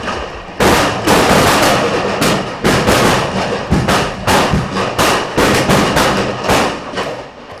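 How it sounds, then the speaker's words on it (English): Firecrackers set off by fans at a schools rugby match between St. Anthony's College and St. Joseph's College in Sri Lanka, a loud, dense string of sharp bangs and cracks bursting irregularly with no talk. "Welcome for the Anthonian team in the form of firecrackers from the Anthonian fans."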